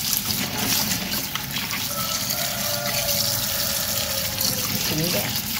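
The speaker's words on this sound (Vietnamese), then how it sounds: "Bây giờ mình sẽ dùng nước để mình rửa sạch đây." Running water from a tap pours over crabs being rinsed clean before steaming with lemongrass, a steady close gush and splash with some handling noise.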